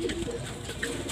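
Racing pigeons in a loft give short low coos and soft murmurs close by, with faint background noise and no clear speech.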